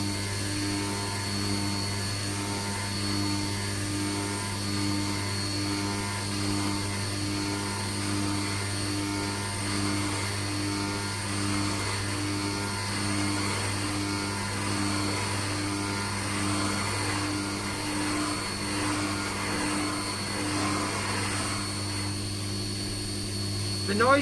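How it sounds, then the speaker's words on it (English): A lathe bores a hole in a screwdriver cap with a steady, humming machine whine and a rough, gritty chatter from chips being recut, continuous and even for over twenty seconds. "The noise you hear is it recutting chips."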